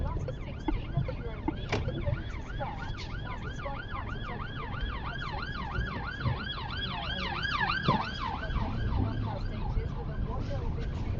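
An emergency vehicle siren wails in a fast, repeating up-and-down pattern as it passes a car on the road, loud and fairly close over steady road and engine rumble.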